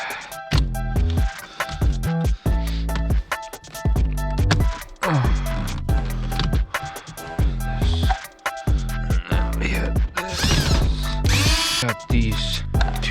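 Power drill working on a Nissan 370z during a Voodoo13 hydraulic handbrake install, whirring in repeated close bursts of varying length with clattering tool handling between runs.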